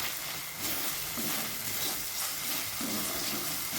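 Spice masala sizzles and fries in a pan while being stirred, a steady broadband hiss with soft scraping strokes throughout, fairly close and alone without talk.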